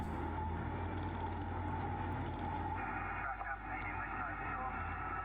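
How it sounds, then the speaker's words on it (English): Muffled two-way radio chatter from trucks drifts in the background over a steady, loud rumble of heavy machinery in a hardrock underground mine, with no clear speech up close. "You can hear the radio chatter in the background"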